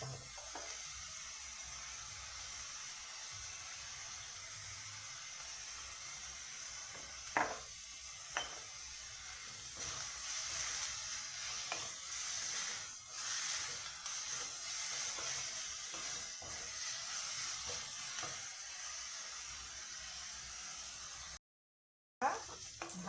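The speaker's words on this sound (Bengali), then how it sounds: "এখন লবণ হলুদ দিয়ে এটাকে ভাজা করতে হবে, সুন্দর করে আস্তে আস্তে ভাজা করতে হবে" Taro paste with salt and turmeric fries gently in a pan, a steady soft sizzle with occasional stirring scrapes and clinks running throughout, fairly quiet and close, with no talking.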